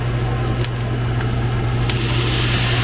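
Water poured into a hot pan with vegan smash burgers topped with vegan cheddar, a loud steady hiss and sizzle throughout, no talking.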